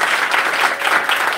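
A congregation at a church service applauds, a short, steady wash of many hands clapping together at close range.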